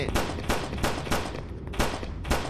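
Repeated gunfire from the mobile version of Resident Evil 4, with bursts of shots in an irregular rhythm: five or six loud cracks over a steady game backdrop. There is no talk.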